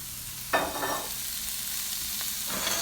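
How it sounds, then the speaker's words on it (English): Oyster mushrooms tossed into a hot pan with shallots and garlic give a steady, close sizzle, with a couple of brief stirring scrapes over the frying hiss and no talking. "You can hear that little sizzle."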